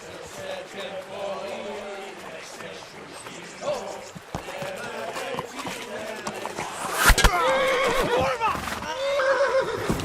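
A horse whinnies in the video game Kingdom Come: Deliverance over a busy mix of music and game sounds, the neigh rising sharply partway through with hoofbeats and voices around it.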